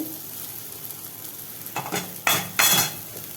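A spoon stirs sambar powder into bitter gourd frying in a pan, giving a soft continuous sizzle with a few sharp scraping clinks of utensil against metal near the end.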